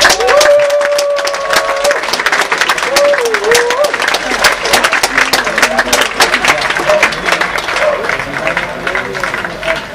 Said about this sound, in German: Caroline Wurth und Sophie Nattmann, und wir begrüßen Sie jetzt mit einem riesen Applaus.